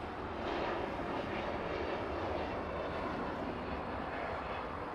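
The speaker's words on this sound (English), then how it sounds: "That one coming in, it's Air Premia coming in from Seoul, flight 103." An Air Premia Boeing 787 Dreamliner lands at Los Angeles, arriving from Seoul, its engines giving a steady, loud jet roar that holds evenly for the whole stretch with no voices over it.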